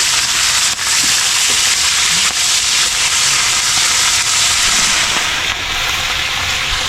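Food sizzling in hot cooking oil, a steady, loud broadband frying hiss that runs without a break from start to end, with no voices over it.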